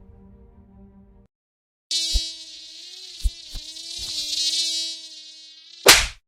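Loud buzzing of mosquito-like insects in a bug repellent advert, rising after a short quiet lead-in with a few sharp thumps and a harsh burst at the end.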